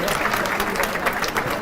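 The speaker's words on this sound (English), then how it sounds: "Let's give her a round of applause for that." Steady applause from a crowd, dense clapping filling the whole moment without a break.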